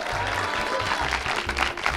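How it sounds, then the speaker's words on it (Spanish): Studio audience applauding visiting CONALEP Tepezalá students on an Aguascalientes TV youth show, a dense steady clatter of clapping throughout, with a low hum and faint murmur beneath it. "un aplauso para ustedes muchachos"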